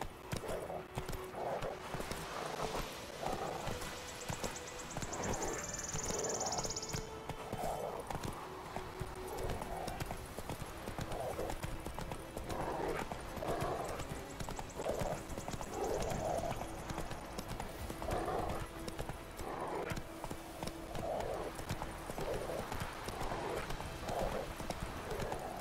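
Roach, Geralt's horse in The Witcher 3, clip-clops along in a steady walking rhythm of hoof beats that runs the whole stretch, moderately close, with a brief whinny early on and game ambience underneath.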